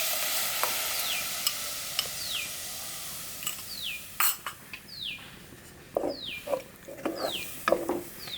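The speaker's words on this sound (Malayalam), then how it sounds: "അപ്പോൾ നമുക്ക് പാഷൻ ഫ്രൂട്ട് ഇതിൻ്റെ അകത്ത് ഇട്ട് കൊടുക്കാവേ." Passion fruit cooking in a pan on the stove, with a soft sizzle under repeated rhythmic scraping strokes of a utensil against the pan, growing more clattery toward the end.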